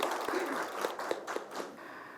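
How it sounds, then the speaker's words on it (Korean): Applause at a Seoul city council forum on future job education for young people with disabilities, welcoming the health and welfare committee chair; scattered, fairly quiet clapping with distinct individual claps that thins out near the end. "큰 박수로 모시도록 하겠습니다."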